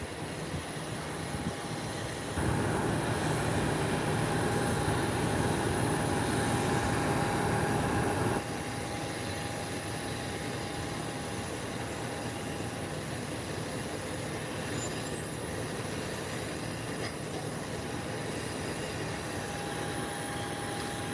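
A United Airlines jet taxiing toward the runway, a steady distant engine whine and broad rumble with a louder stretch early on, heard from outside with no one talking.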